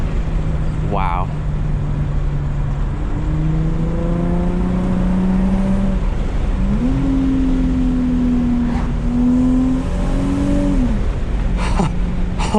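A 2007 Infiniti G35 engine hums and climbs through the revs in several gear pulls with shifts between them, heard from inside the car with road noise beneath and people talking over it.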